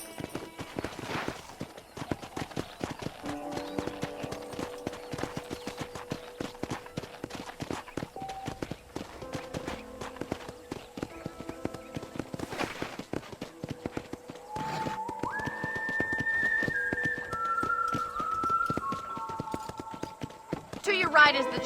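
Horse hooves clip-clop in the Red Dead Redemption video game as a rider sets off, a steady rhythmic beat running throughout under game music and a talking voice.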